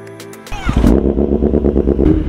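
A motorcycle fitted with an Austin Racing exhaust starts up after a few clicks and then revs loudly and close by, with a deep, throbbing, pulsing exhaust note.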